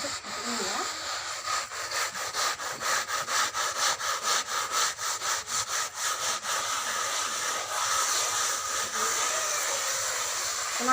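Ceramic floor tile scrubbed with sand under a cloth, a steady rhythmic gritty rasping of repeated back-and-forth strokes, close and fairly loud throughout.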